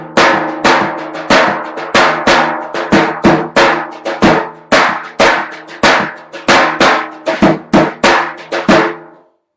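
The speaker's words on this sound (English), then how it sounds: "before the boom boom bap, you can add 2 little ghosted switch notes into that" A close, resonant hand drum plays a busy repeating groove, deep booms and crisp slaps with quick soft ghost notes tucked between, steady for several bars.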